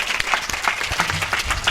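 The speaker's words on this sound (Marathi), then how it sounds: "सिस्टीमवाल्या दादांसाठी टाळ्या वाजवा एकदा." Applause from the audience at a kirtan, a dense, continuous burst of many hands clapping close by for the whole stretch, without speech over it.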